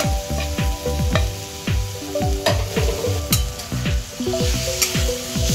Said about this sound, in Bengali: মশলার সাথে আলুটা ভালো করে কষিয়ে নিচ্ছি।